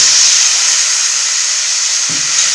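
Chopped tomato and a splash of water hit a hot pan of spices, giving a loud, steady steam hiss and sizzle that holds for the whole stretch, with a brief low clunk near the end.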